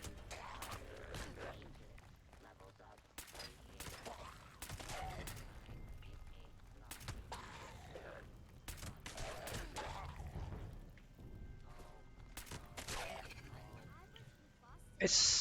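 Crusader pistol flamethrower firing in Fallout 76, rapid bursts of repeated discharges in spurts over the full span, heard beneath someone talking throughout.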